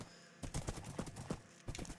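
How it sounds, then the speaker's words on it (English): A horse galloping in Minecraft: rapid rhythmic hoofbeat thuds in quick clusters, moderately close, with a short pause before another run of steps. "This horse is rapid and he looks cool as well."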